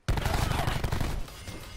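Rapid burst of automatic gunfire from the video game Call of Duty Black Ops 4, loud and close, a dense rattle of shots lasting about a second before trailing off.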